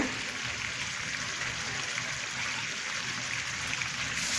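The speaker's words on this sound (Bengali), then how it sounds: "এখন আমি একটু গরম পানি দিয়ে দিচ্ছি এটাতে।" Hot water poured into a pot of beef and potatoes, a steady continuous trickling stream, close and moderately loud throughout.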